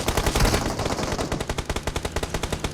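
Automatic gunfire in the mobile battle game PUBG Mobile, a close, loud stream of rapid shots that settles into an even, fast rhythmic burst.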